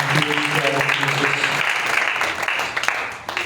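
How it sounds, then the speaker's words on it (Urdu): A church congregation applauding loudly during a sermon, strong clapping that fades after the first half, with speech heard over it. "آئے اس خدا کو زوردار تالیوں کے ساتھ"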